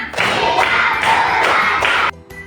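A school class claps together in a counted clapping routine led by the teacher, producing a run of loud, close, thumping clap bursts in a steady rhythm that stops abruptly.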